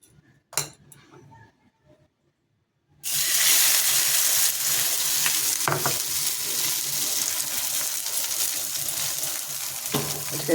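Food fries in a small amount of oil in a pan over low gas, giving a steady close sizzle that starts abruptly after a few quiet seconds with faint clinks, with occasional stirring noises.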